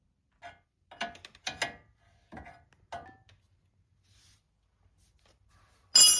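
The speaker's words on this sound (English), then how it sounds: "finish loosening up the upper control arm ball joint nut" A ratchet loosening the upper control arm ball joint nut on a 2007–2013 Silverado-type truck: a few short bursts of clicking turns, close by and quiet, followed by a louder metallic clatter at the end.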